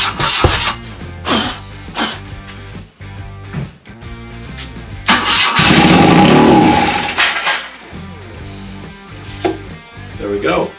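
BMW R80ST motorcycle engine given brake cleaner in the intake, cranking in short bursts before catching and briefly running with a rough roar, then falling back to intermittent turning over, loud and close.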